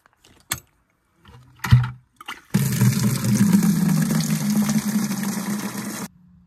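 A few handling clunks, then water runs steadily from a tap for several seconds, splashing as beets are rinsed under it, before shutting off.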